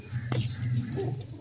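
A pigeon coos close by in a low steady throaty drone, with a brief sharp click partway through and no talk over it.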